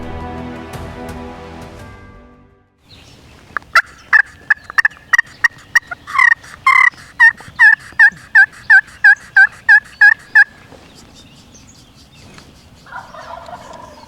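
Wild turkey tom in Pennsylvania woods on spring opening day gobbling, a loud rapid rattling burst of repeated notes lasting several seconds, preceded by a buzzy low call and followed by quieter clucks.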